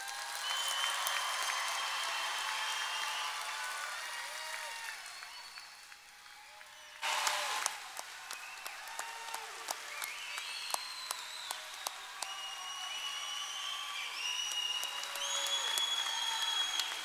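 A large crowd at the Angelo State University spring 2023 commencement gives the graduates long, sustained applause that dips briefly, then swells again with sharp claps, whistles and cheering rising above the roar.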